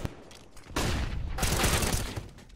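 Rapid gunfire in a competitive esports shooter match, dense bursts of shots crackling close and loud in overlapping volleys after a brief quieter opening.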